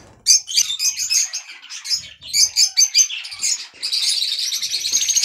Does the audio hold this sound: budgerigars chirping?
yes